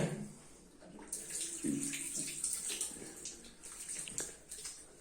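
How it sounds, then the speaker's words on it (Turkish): Tap water runs steadily while a left arm is washed three times during ablution, a continuous close splashing stream with brief uneven surges and drips, heard alone without talk. "Yine sol kolumuzu da yıkıyoruz üç sefer."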